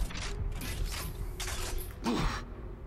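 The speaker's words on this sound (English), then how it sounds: "Detecting elevator movement." An elevator mechanism in the video game Alien Rage moves with creaking, grinding mechanical noise in uneven pulses, ending in a louder clunk, with no talking.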